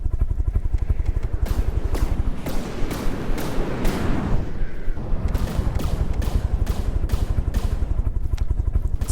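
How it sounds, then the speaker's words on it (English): Video game battle shells burst against the shields of a vehicle called the Iron Maid in a dense, rapid volley, with loud, sharp detonations repeating almost continuously. "See a lot of those shells detonating early inside the shields of the Iron Maid."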